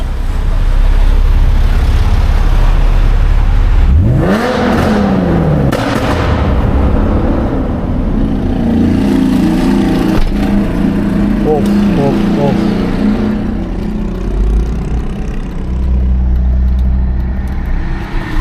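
A BMW E39 528i revs hard, its exhaust crackling with loud pops and bangs; voices talk and exclaim nearby.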